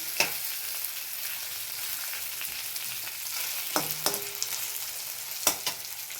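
A gravy with chili and coriander powder sautéing in a pan, giving a steady soft sizzle throughout, with a few sharp clinks and scrapes of a spoon against the pan.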